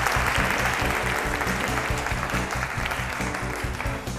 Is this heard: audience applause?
yes